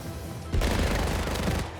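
Gunfire from a sniper in the video game 007 First Light hits as a sudden loud blast, then a sustained rumbling burst that lasts just over a second, with no talk.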